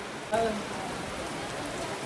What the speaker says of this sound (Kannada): ಮಳೆಗಾಲ ಫುಲ್ಲು ಮಳೆ ಗೈಸ್, ಫುಲ್ಲು ಮಳೆ, ಒಳ್ಳೆ ಮಳೆ ಹೋಯ್ತೈತೆ